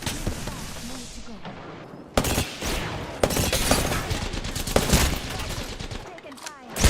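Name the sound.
gunfire in a video game, shooting at the player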